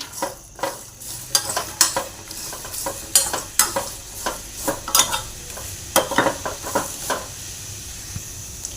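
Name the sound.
garlic roasting and stirred in pan with grated coconut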